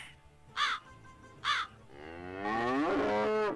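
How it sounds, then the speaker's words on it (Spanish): Two short, sharp crow caws ring out a beat apart in The Simpsons, followed by a long, loud cow moo that swells and holds to the end. "se oye gritar un cuervo. Pero cuando los Simpsons se fueron a la India, el ruido cambió a un sonido de una vaca."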